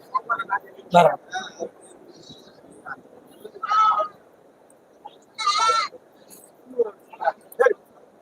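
Goats and sheep at a Saturday livestock market in Ettayapuram, Tamil Nadu, including a mother goat with two kids, give several short bleats and calls scattered among crowd chatter and people talking nearby.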